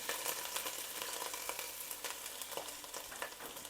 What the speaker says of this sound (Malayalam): ഇനിയിപ്പം നമുക്ക് അതിലേക്ക് ഇഞ്ചിയും വെളുത്തുള്ളിയും കൂടെ ചേർക്കാൻ